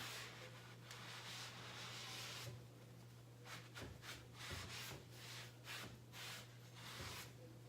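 Wax being rubbed back off a piece of furniture with a cloth, a soft continuous scrubbing that comes in uneven strokes over a steady low hum, with no talking.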